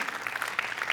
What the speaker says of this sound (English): And when you could clap for that, that's okay.